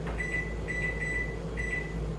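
A kitchen counter timer sounds a thin, steady electronic beep in three repeated runs, faint under a constant low room hum, with no talking.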